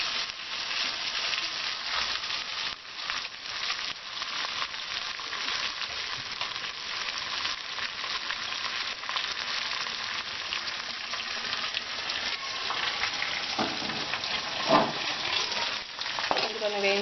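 Tempering fried in a pan hits boiling sambar with a loud, continuous sizzle and crackle, a dense hiss holding steady close to the pot.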